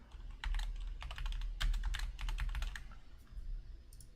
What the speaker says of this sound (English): You just start typing stuff in.